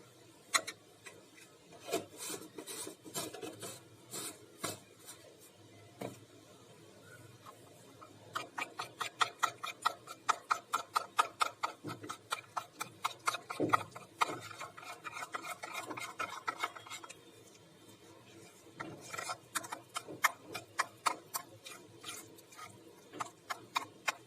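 Curd okra being stirred with half a spoon of garam masala in a pan, a steady run of soft scraping strokes close by, quickening into rapid rhythmic rubbing in the middle, with no talking.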